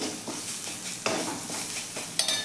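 Coriander powder and onion-garlic masala stirred in a hot pan, a steady sizzle broken by scraping strokes and a couple of sharp utensil clinks against the metal, close and alone.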